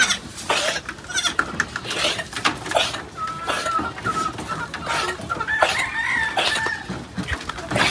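Goats bleating and chickens clucking at a farm, with a rooster crowing among them. The animal calls overlap at close range while people talk in the background.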